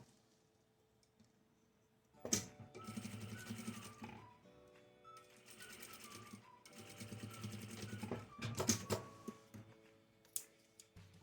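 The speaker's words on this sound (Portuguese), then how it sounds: "E agora eu vou passar uma costura para prender" A sewing machine runs in several close, steady bursts as it stitches a seam on a fabric jewelry organizer, with short pauses and faint clicks between runs.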